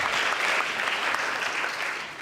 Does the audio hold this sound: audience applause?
yes